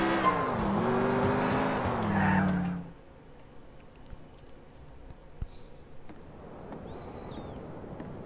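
A car drives in GTA 4, its engine droning loudly with a rising and falling pitch for a few seconds before dropping to quiet ambient background with faint clicks.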